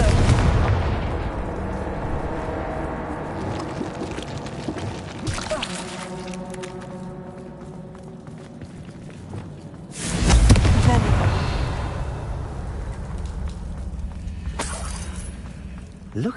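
Confringo blasting spell in Hogwarts Legacy, a loud explosive boom landing partway through with a rumbling tail, set among earlier crackling bursts and steady game ambience, with a voice speaking nearby.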